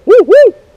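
A voice imitates a barred owl hoot to locate roosting wild turkeys after dark: two close, loud, drawn-out hooting calls, each rising then falling, followed by silence.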